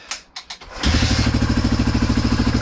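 Motorcycle with a newly fitted exhaust: a few short clicks and taps, then the engine fires on the first start and settles into a loud, steady, throbbing idle close to the microphone.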